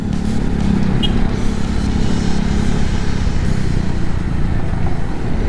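Honda CRF 250 Rally 2021 motorcycle engine held around 4000 rpm while overtaking in moderate traffic, a steady loud low drone with wind rush, continuous throughout with no talk.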